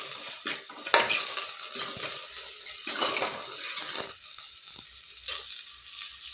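Shallots and green chillies sautéing in a pan, with a steady close-up sizzle and frying crackle broken by occasional stirring scrapes, and no talking.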